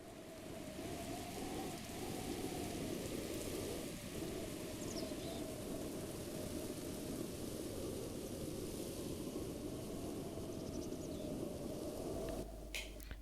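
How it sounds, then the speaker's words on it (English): Heavy rain in the video game Zelda: Breath of the Wild, a dense continuous downpour with a low rumbling storm undertone, loud and unbroken with no talk. "The rain should let up any second now"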